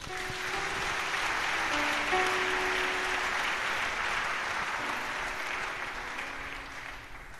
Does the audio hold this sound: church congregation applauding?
yes